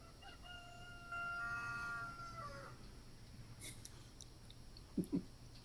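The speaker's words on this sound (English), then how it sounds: "he's got a bunch of chickens in the background here" A rooster crows a few times at a distance over quiet outdoor background noise, followed by a couple of short, close clucks.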